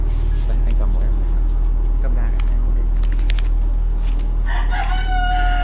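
Chickens and a rooster on a farm in Vietnam, with clucking and a crow rising near the end over steady background noise while people talk.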